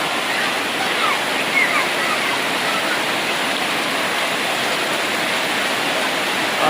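Floodwater surging through a residential neighbourhood in heavy rain in Padang, a steady loud broadband roar of rushing water that continues without break throughout.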